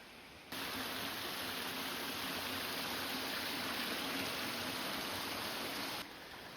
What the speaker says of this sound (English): Outlet Falls is a 70-foot plunge-style waterfall